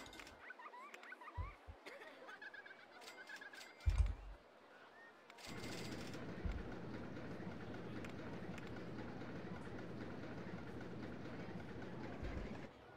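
A roller coaster train from RollerCoaster Tycoon clatters along its track in a steady, sustained rumble of rolling wheels and clicks, preceded by quieter game ambience and a brief thump.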